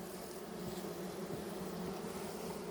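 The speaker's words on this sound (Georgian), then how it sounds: "ფუსია ფუტკრებში. ფუსებენ. ეს ემზადებიან ზამთრისთვის." Honey bees buzz steadily inside a hive as the colony readies for winter, a dense, continuous drone held close and even throughout with no talking.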